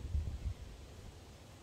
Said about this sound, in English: White noise is on again.